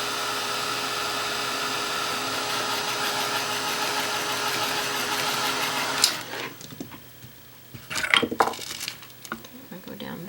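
A hair dryer blows steadily on acrylic paint for about six seconds, a loud, close whine with a steady hum, then cuts off. Soft clicks and handling noises follow against near silence.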